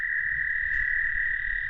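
Big frogs call outdoors in a steady, sustained trilling drone that carries without a break, close and fairly loud over a low background rumble.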